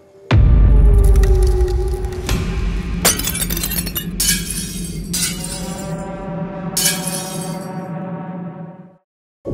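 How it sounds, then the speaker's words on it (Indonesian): Glasses smash and shatter in a loud close crash, followed by a long, bright spray of tinkling shards that rings and settles for several seconds before cutting off. "Bahkan sampai ada 2-3 gelas gitu yang sempat pecah."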